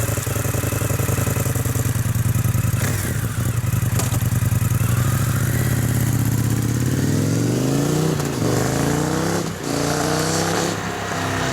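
An Indian FTR 1200 S motorcycle on a test ride holds a steady, close engine drone, then revs climb in several rising pulls toward the end.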